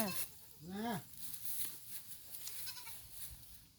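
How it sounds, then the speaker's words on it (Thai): A mother goat in Thailand gives one close, strong bleat that rises and falls, while people chat nearby and faint farmyard noise continues around it. "แม่แพะค่ะ"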